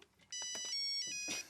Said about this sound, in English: And some play tunes like this.